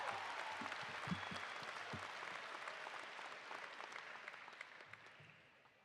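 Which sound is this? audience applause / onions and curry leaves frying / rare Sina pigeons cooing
audience applause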